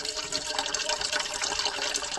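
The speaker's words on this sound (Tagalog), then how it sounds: "Lagyan tayo ng tubig." A continuous stream of fresh mountain spring water splashes and gurgles into a pot nearby at a campsite in the Sierra Madre, steady and fairly loud with no talking.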